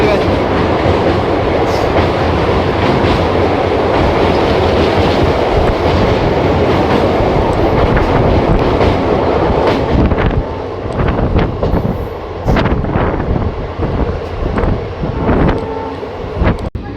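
An intercity express train rolls along rails through the Dooars forest between Siliguri and Bamanhat, a loud close rumble with clickety-clack and heavy wind buffeting the microphone, easing slightly toward the end.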